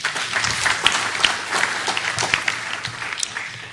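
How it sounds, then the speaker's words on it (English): An international conference audience in Kigali, Rwanda applauds the organizing committee, a busy, fairly distant hall of clapping with individual sharp claps popping out of the mass, sustained throughout and free of speech. "let us show them a big thank you with a huge applause"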